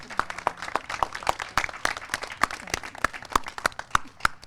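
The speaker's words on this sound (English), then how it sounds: "Let's get a big round of applause for all the people behind me" Scattered hand claps from a small audience at the Burtis House signing ceremony, sharp separate claps, close and fairly loud, continuing steadily without talk.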